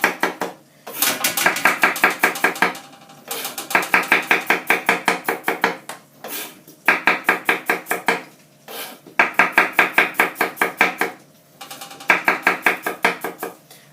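Rapid rhythmic knife chopping on a board, close and loud, in five bursts of quick even strokes separated by short pauses, the kind of slicing used for gherkins in a stuffed chicken recipe.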